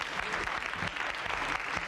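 A studio audience on a Turkish TV show breaks into brief, dense applause, loud and steady for a couple of seconds.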